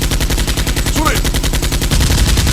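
Nerf guns fire in rapid repeating bursts during a staged foam-dart battle, a loud close machine-like rattle that continues throughout.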